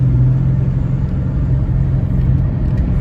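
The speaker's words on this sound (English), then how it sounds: "It starts missing when I'm right open throttle." A Buick Lucerne's GM 3.8L engine misfires at wide open throttle, giving a loud, steady, close engine roar with a rough, uneven low rumble throughout.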